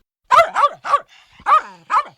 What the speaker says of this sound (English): started barking loudly